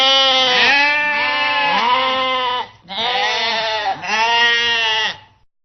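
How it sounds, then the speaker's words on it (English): Sheep bleating alone, two long wavering calls with a brief gap between them, loud and close. "Sheep."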